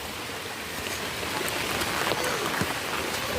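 Steady rain falls outdoors in a continuous, even hiss with no clear gaps, filling the whole stretch at a moderate level.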